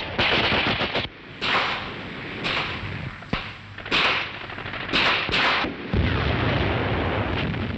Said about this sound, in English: Under cover, they open up at the enemy pillbox.